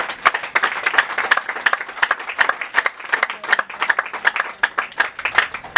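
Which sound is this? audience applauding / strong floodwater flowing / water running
audience applauding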